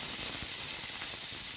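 Tomatoes hitting a hot pan for rajma curry give a steady, soft hiss and sizzle that carries through the whole short moment, with no talking.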